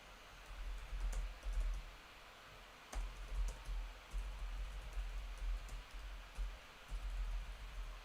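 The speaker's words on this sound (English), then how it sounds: "I don't know why I'm typing this out." Quiet typing on a computer keyboard, with bursts of soft key clicks broken by short pauses, close to the microphone and with no talk.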